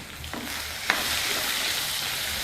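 Ridge gourd pieces hit hot oil already used for frying, giving a steady, close sizzle with a couple of brief stirring clinks near the start and no talk.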